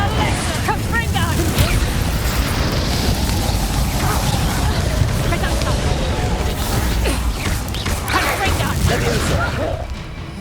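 Fiery spell blasts in the game Hogwarts Legacy, a dense run of booming bursts and crackling impacts that stays loud throughout, layered with combat effects and voices.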